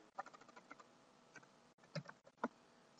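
A short, quiet burst of irregular keystrokes on a computer keyboard types the gpupdate command, with a few sharper clicks near the end and no talk.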